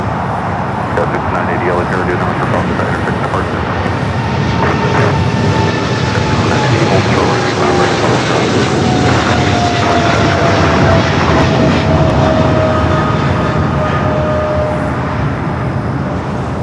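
A plane takes off on runway 25 Left at LAX, its engine roar loud and close, holding steady the whole time with a slowly falling whine above it and faint voices in the background.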